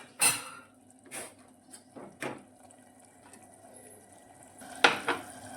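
A spoon clinks and scrapes against a pan as green pigeon pea curry is stirred in oil. A handful of sharp metallic taps are scattered over a quiet background, with no voices.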